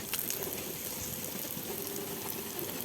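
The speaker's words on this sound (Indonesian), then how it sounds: "Lalu kita siram secara merata sehingga lembab ya teman-teman" Water poured steadily over a grape planting medium to dampen it evenly, a continuous close, broadband splashing wash with no pauses.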